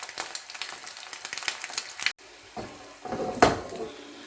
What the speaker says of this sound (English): You can hear that sizzling sound.